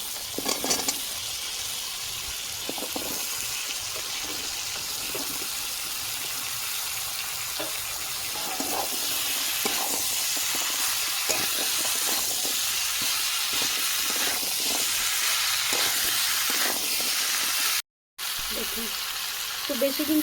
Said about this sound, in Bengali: সামান্য জল দিচ্ছি কেটে রাখা কুমড়ো আলু আর পলাশ দিয়ে দেবো